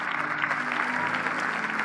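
Applause from a church audience in Windhoek, Namibia, steady and fairly soft, a continuous patter of clapping hands with a faint hum beneath, heard without talk.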